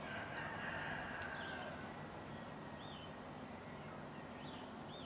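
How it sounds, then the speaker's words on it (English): Roosters crow outdoors in the morning, faint and distant over a steady hiss of background noise, with other birds calling softly now and then. "all the roosters crowing, and all the birds out here and all."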